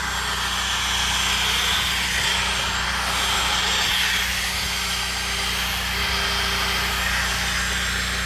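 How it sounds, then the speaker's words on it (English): Drill-driven white bristle brush on its lowest speed scrubbing a car headliner, giving a steady, continuous motor whine with a broad brushing hiss, close and even throughout with no talking. "drill brush with a white bristle brush on speed 1"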